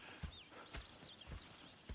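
Horse hooves clip-clopping at a steady walking pace in Red Dead Redemption 2, four distinct thuds over a soft outdoor ambience with faint birdsong.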